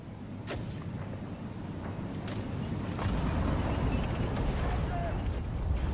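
Tanks in the Sudden Strike 4 strategy game, Kursk armored campaign, rumble steadily with scattered distant cannon booms and clanks, a low continuous battle din growing slightly louder.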